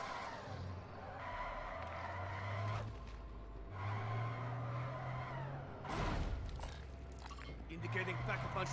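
In-game vehicle driving in Call of Duty MW3 Zombies, with a low engine drone and tire skids rising and falling over several seconds, a loud crash-like burst midway, and a voice talking over it throughout.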